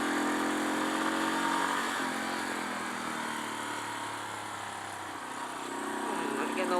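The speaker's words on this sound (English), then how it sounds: "A lot of engine braking there." A Suzuki DR dual-sport motorcycle with 33,000 miles engine-brakes on a mountain trail, its steady engine drone shifting pitch as it slows, close and loud with some wind noise.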